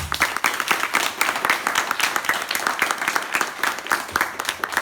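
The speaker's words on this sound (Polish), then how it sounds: "Wielkie brawa dla pana Grzegorza." Audience applause at a poetry evening, a sustained burst of many hands clapping with distinct sharp claps, close and fairly loud throughout.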